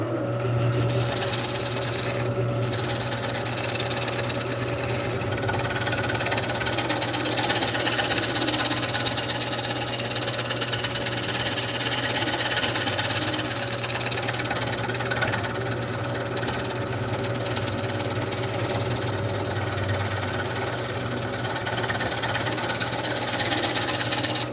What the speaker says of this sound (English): I'm going to try to do some shear scraping around the side of this.